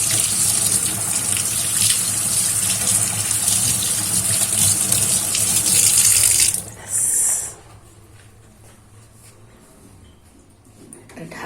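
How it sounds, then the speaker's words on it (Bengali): Tap water runs steadily into a sink during handwashing in a home kitchen, fairly close and continuous, then cuts off, leaving a quiet room; a person talks over the running water. "একটু হাত ধুতে হবে।"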